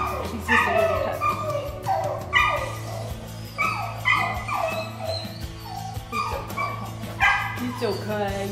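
A young female puppy at a county humane society shelter barking, yipping and whimpering repeatedly, close by, with other dogs and a low hum in the background.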